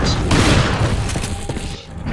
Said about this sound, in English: Alright, shotgun. Shotguns are nice.